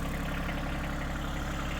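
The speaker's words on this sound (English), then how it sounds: "The Bad4 tractor is still able to get it up here." A Bad Boy tractor engine runs steadily while moving logs, a loud continuous near drone with no pauses and no voices.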